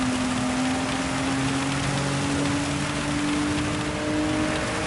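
Steady rain hisses down through a GR4 race, a continuous broadband wash with a car engine droning beneath it, loud and unbroken throughout.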